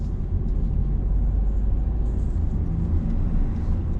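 A car is driven during a driving lesson and gathers speed, giving a steady, low engine rumble heard from inside the cabin. It stays constant and close throughout, with no talk.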